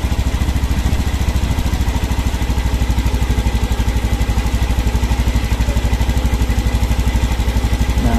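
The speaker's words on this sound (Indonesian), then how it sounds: "Untuk langsam paling segini udah cukup." A fuel-injected motorcycle engine idles after its idle speed has been adjusted, a loud, close, steady rapid putter with an even chugging rhythm throughout.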